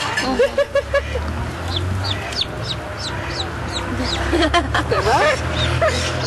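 Farmyard poultry, including chickens, chicks and turkeys, cluck and peep in short repeated bursts close by, while people talk over them now and then.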